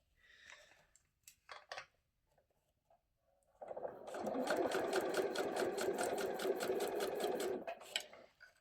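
A sewing machine stitches a small zipper pouch in one sustained run of fast, rhythmic whirring lasting about four seconds, preceded by light handling taps and clicks.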